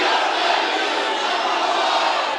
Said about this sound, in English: I want everybody to yell as loud as you can